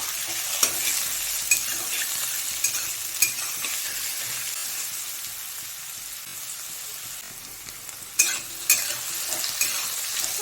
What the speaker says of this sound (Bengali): এবার আলুগুলো দিয়ে দেব। একটু ভালো করে ভেজে নেব।